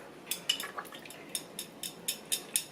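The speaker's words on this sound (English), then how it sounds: "we're going to grab this pan over here" Cooking pan picked up in a home kitchen, a string of light metallic clinks and taps in a quick uneven rhythm, close and fairly quiet.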